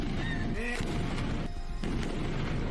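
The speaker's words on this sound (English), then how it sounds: "It's literally explosion." Large practical explosion effect in a music video, a loud heavy boom and rumble with crashing noise under music, dense and sustained throughout.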